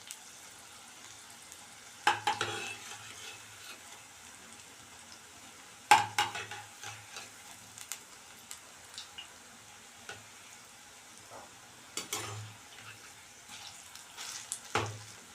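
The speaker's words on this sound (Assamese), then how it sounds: "অলপ ৰঙচুৱা হোৱালৈকে ভাজি ৰাখিম।" Cabbage and gram flour pakoras fry in hot refined oil with a soft, steady sizzle, broken by occasional sharp clinks and scrapes of a spoon against the pan.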